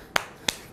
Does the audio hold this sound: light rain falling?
no